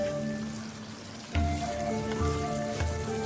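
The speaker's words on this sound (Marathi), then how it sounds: "तर आता आपण ह्याच्यात एक एक करून अंडे टाकून घेणार आहोत. फक्त 1 मिनिट फ्राय करून घ्यायचे." Eggs fry with turmeric in a pan, giving a steady, close sizzle with a few sharper crackling bursts as the eggs settle into the hot oil.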